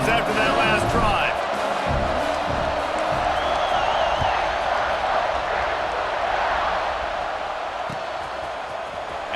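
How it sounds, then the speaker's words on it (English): A football stadium crowd roars steadily after a touchdown drive, broad and continuous with a few whoops and whistles, while a commentator talks over it. "this crowd is feeling themselves after that last drive"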